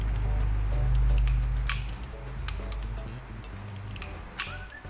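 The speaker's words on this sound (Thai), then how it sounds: "กดชัตเตอร์ B ต่อไปเป็นสปีดชัตเตอร์ 2 และ 4" Rollei 35T film camera shutter firing repeatedly at different speeds, with about a dozen sharp mechanical clicks, some paired, heard close up against a low background hum.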